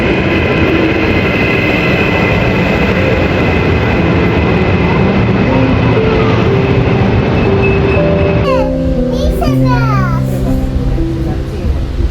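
Train ride in Treviso, Italy: loud, continuous rumble of a moving train carriage with steady rolling noise and a rising whine, people talking over it, including a child.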